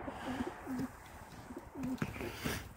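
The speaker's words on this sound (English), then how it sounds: "there's some pigeons up" Pigeons coo inside a loft aviary, several soft, rolling two-part coos repeating through the moment over rustling and faint background noise, close by.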